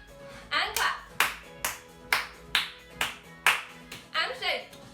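Young children aged two to five clap their hands in a creative dance class, about eight sharp group claps in a steady rhythm, each close and loud, with an adult voice calling cues between them.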